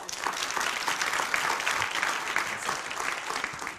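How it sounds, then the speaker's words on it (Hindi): Steady applause from a studio audience on a Hindi television debate show, continuous dense clapping at moderate level throughout with no pauses. "तालियां तो बजाइए"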